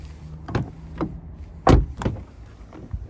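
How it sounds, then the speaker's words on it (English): A 2021 Jeep Grand Cherokee SRT locks its doors at the push of the keyless handle button, giving a series of sharp mechanical clunks and clicks, with one louder thunk midway, heard close by outdoors. "I can then push this button to lock the doors"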